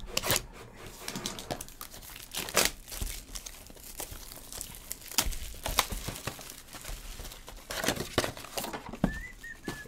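Bowman Chrome trading card pack wrappers being ripped open and crinkled up close: sharp, scattered tearing bursts and crumpling foil noises, fairly quiet, with a faint whistle near the end.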